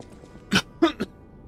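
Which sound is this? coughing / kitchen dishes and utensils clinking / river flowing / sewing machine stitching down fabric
coughing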